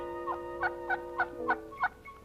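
A wild turkey gobbler gobbles in a quick series of about five rattling bursts, fairly faint and at some distance, with no voices.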